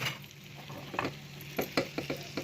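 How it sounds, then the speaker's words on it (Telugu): Oil crackles and sizzles as spices and cashews fry for rava pongal, with a spoon scraping and stirring the pan in quick, uneven strokes. "చూసారు కదా ఎంత బాగా వేగుతున్నాయో"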